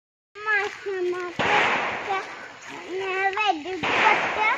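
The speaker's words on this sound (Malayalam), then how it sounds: "അപ്പൊ പട്ടാള ക്യാമ്പില് വെടിയൊക്കെ ഒച്ചയൊക്കെ കേട്ടോ." Gunfire from shooting practice at an army camp rolls in as two broad, rumbling bursts from a distance, with a voice talking between them.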